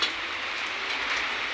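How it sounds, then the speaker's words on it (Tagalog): Heavy rain pours down as a steady, dense hiss, continuous and fairly loud without pauses, outdoors at a shop selling road bikes. "lakas na naman ng mga ulan"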